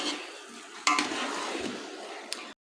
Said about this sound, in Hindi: तमाम को मिक्स कर लीजिए अच्छी तरह।